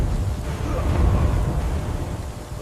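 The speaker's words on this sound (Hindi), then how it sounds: "बारिश आ गई।" Thunderstorm with rain: a deep, continuous rumble swells and lingers under a dense hiss of falling rain, loud and steady throughout with no voices.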